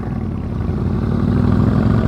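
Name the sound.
motorcycle engine running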